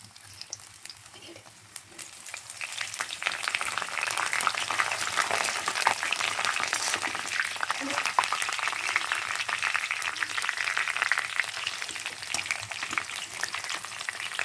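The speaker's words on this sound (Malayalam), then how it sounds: "ഇനി നമുക്ക് ഈ എണ്ണ ചൂടായതിന് ശേഷം കുറച്ച് കറി ലീവ്സ് ഇടാം" Curry leaves and ginger crackle and sizzle in hot oil for soya chunks fry, a dense steady spitting that swells loudly after a quieter start and holds strong throughout, with no talking.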